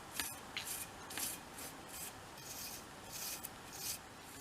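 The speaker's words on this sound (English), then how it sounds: "use a soft brush to remove the sanding dust" A soft brush sweeps sanding dust off a small wooden room-box piece in quiet, repeated strokes, each a brief airy rasp, close and gentle with short pauses between.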